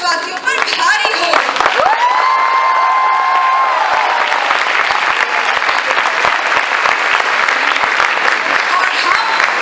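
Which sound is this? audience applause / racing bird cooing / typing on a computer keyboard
audience applause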